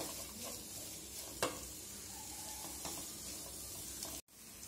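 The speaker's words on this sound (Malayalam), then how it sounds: "നല്ലപോലെ ഫ്രൈ ആവുക വെളിച്ചെണ്ണ ആവശ്യത്തിന് ചേർത്ത് കൊടുക്കണം" Beetroot and chicken gravy fries in coconut oil with a steady close sizzle, broken by a few stirring scrapes of the spoon.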